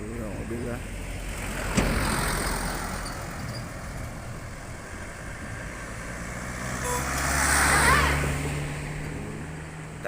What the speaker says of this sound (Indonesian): Tuh mobil ya.